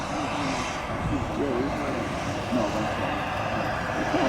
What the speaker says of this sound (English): Afterburner on, as you can see.